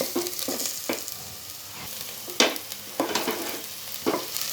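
Onions frying on medium-low heat while turning pink, with a continuous soft sizzle punctuated by several sharp spatula scrapes and clinks at irregular intervals, close and without voices.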